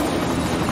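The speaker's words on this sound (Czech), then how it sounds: "Super vrtulník." A helicopter's rotor chop and engine drone fill the moment in a short, loud, continuous burst, with no talking over it.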